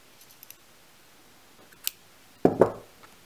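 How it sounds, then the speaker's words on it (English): Scissors snip off excess yarn from a crocheted spring hat: one faint click first, then a sharp double-snap cut close by in a quiet room. "I'm just going to cut off the excess yarn here"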